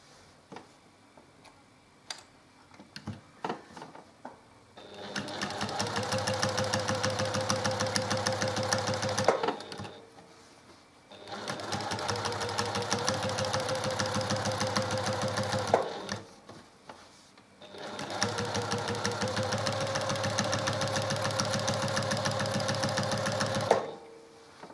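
A sewing machine stitching the last seam of a quilt block runs in three steady humming, rapidly ticking bursts of several seconds each, separated by short pauses with light handling of the fabric.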